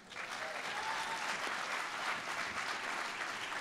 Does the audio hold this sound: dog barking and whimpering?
no